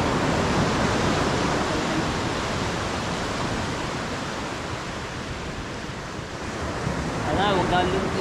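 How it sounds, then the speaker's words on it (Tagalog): Ocean waves washing in steadily as a broad, constant roar of surf with wind, fairly loud and close, swelling slightly toward the end, with no clear voices. "huwag na lumaki yung alon mamayang gabi"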